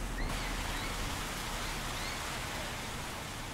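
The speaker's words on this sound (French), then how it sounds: "une grosse pluie de mousson s'abat sur leur baraque mal protégée et insalubre." Heavy monsoon rain pours down on a poorly protected shack, a dense, continuous hiss of rain on the roof that stays loud and steady throughout.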